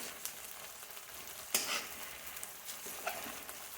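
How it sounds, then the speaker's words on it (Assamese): Elephant apple (outenga) half-frying in a pan with chili, a faint steady sizzle and crackle with a few sharper pops and stirring scrapes, no talk. "আৰু জ্বলাৰ কাৰণে এটা ভোট জলকীয়া দি দিছোঁ আৰু ঔটেঙাখিনি পুৰা সিজাব নালাগে অলপ হাফ ফ্ৰাই কৰিম"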